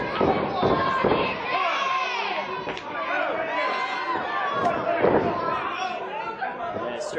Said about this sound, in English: Crowd rallying behind AJ Smooth.